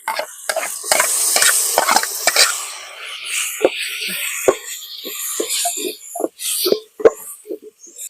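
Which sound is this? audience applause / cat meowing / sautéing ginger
sautéing ginger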